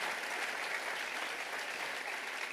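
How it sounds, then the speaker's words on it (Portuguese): A church congregation applauds during a Sunday morning sermon, a steady, dense wash of clapping filling the room for the whole stretch without any voice rising above it. "pode aplaudir o Senhor mesmo"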